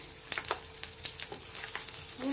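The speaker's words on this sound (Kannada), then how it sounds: "ಚಕ್ಕೆ ಲವಂಗ, ಈರುಳ್ಳಿ ಫ್ರೈ ಮಾಡ್ಕೊಳ್ತೀನಿ" Onions sizzling in hot oil with cinnamon and clove in a pan for a beans curry, a steady close frying hiss broken by small crackles and stirring clicks.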